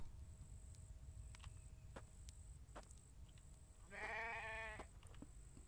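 A sheep in a German survival video game lets out a single clear bleat near the end, heard alone over soft game ambience with faint clicks and insect-like chirps.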